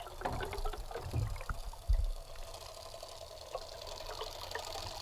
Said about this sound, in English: Listen to this safety pin designed with a homemade urethane spinner.